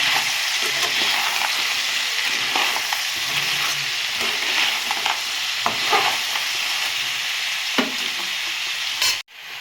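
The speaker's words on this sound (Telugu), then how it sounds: "ఇప్పుడైతే టమాటాలు వేసేస్తాం. ఇది కూడా కొద్దిసేపు మగ్గనిద్దాం." Tomatoes sizzle and fry in a pan of small sea crab curry, a steady close hiss with occasional stirring scrapes throughout, then a sharp clatter just before the end.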